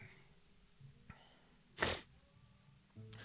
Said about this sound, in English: I going to sneeze again?